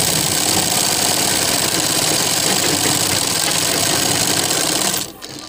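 A sewing machine stitches a collar neckline, a fast steady mechanical whir with rapid needle clatter running loud and close, then cutting off abruptly near the end.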